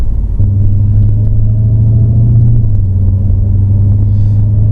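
A 2015 Dodge Challenger Hellcat engine rumbles loud and deep from inside the car during gentle acceleration, a steady low drone whose pitch shifts slightly partway through.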